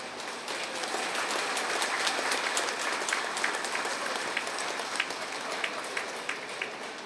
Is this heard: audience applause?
yes